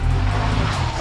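A Mahindra Thar engine revs hard while driving through water, a loud, low droning growl that holds steady and close for the whole moment.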